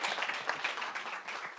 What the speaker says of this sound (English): really a round of applause for all